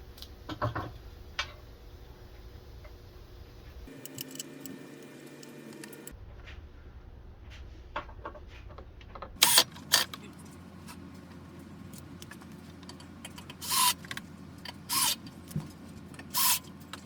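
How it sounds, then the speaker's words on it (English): A wrench tightens the arm of a Thule T2 Pro XTR hitch bike rack. Close, intermittent metallic clicks and ratcheting ticks are broken by short pauses, with several sharper, louder clacks near the end. "Then use your included wrench and just tighten into place."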